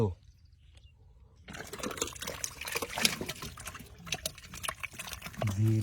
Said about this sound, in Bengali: খালের মধ্যে শব্দ করতেছে কত মাছ রয়েছে রে